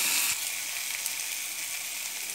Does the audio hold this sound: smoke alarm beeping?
no